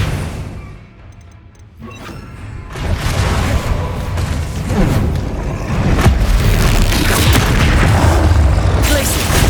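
Spell-casting effects in the video game Hogwarts Legacy, a string of loud booming whooshes, crashes and magical bursts layered densely over one another, following a quieter opening with faint chimes.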